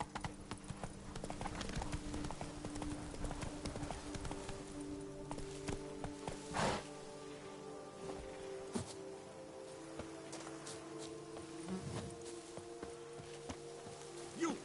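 Roach, Geralt's horse in The Witcher 3, trots with steady clip-clop hoofbeats over a continuous game ambience and music, the footfalls fairly close and even.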